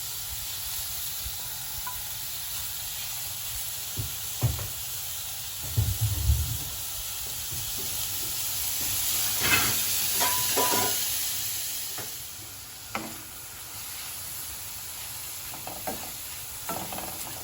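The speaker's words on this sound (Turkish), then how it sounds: "ısınmış tavaya etlerimi atıyorum" Meat for çökertme kebab sizzles in a hot, dry pan with no oil yet, a constant close hiss with occasional louder spitting bursts and spoon scrapes.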